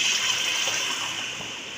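A continuous rush of water pouring and splashing into a pot of rice, loud and close, easing slightly toward the end.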